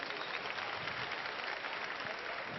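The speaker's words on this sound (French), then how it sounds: "Applaudissez." A crowd at an evening French-language gathering bursts into steady, dense applause that continues evenly throughout, loud and unbroken.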